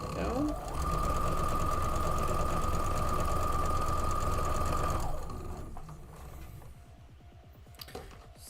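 A sewing machine stitches fabric pieces with a fast, steady mechanical whir for about four seconds, then stops, leaving quiet room sound, and a person speaks faintly.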